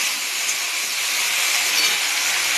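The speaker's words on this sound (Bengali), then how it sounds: "ভেন্ডি আর পেঁয়াজ আমার একসাথেই ভাজা ভাজা হয়ে যাবে।" Sliced okra and onion fry together in a hot pan, giving a constant dense sizzle and hiss that runs unbroken and fairly loud, with no talking.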